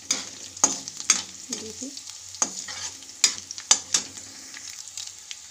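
Chillies fry in a pan with a light sizzle under a series of sharp spatula scrapes and clinks against the metal, close by, and a brief voice speaks.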